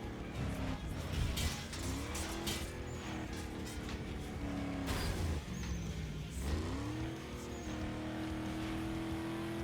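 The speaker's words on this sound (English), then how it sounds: "This is a good way where I can accelerate and get distance" In Need for Speed Underground 2, a heavy SUV accelerates downhill, its engine droning and rising in pitch through gear shifts, steady and continuous with game racing noise around it and no talk.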